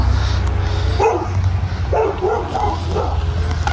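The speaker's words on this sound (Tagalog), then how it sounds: "may aso po." A dog barks several times in short bursts over a constant background hum, with a few yips spaced across a few seconds.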